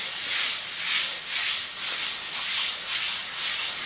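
A bowling ball's surface is sanded with 360 grit, producing a steady, loud hissing scrub with a gentle rhythmic swell as the pad sweeps across the ball.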